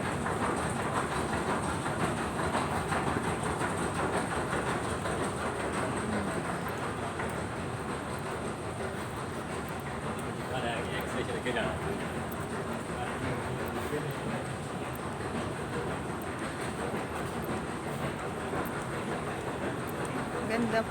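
Steady rumble and rattle inside a moving MRT train in Malaysia at Merdeka, continuous wheel and carriage noise throughout, with a voice talking faintly over it.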